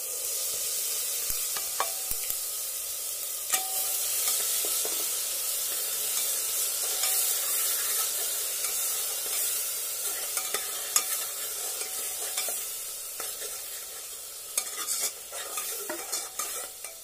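Tomato paste with green chili, turmeric and coriander powder frying in a pan for dhaba-style urad dal tadka: a steady close sizzle runs throughout, broken by repeated scraping stirs, with no talking.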